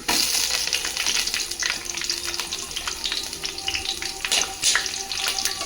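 Chana dal, urad dal, peanuts and green chillies frying in hot oil, a loud, steady, close sizzle with crackles and stirring scrapes throughout, no talking.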